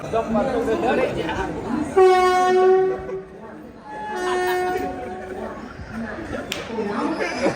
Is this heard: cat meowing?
no